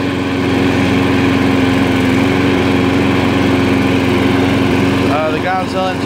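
Older lawn mower with a cleaned carburetor running steadily, a loud constant engine drone with a faint high whine, close by, and someone speaking briefly over it near the end.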